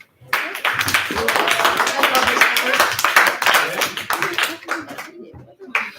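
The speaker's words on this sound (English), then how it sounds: "let's give them a round of applause then." A live audience at a Maker Faire gives a round of applause: dense, steady clapping from many hands fills the room for about five seconds, loud and close, then tapers off at the end.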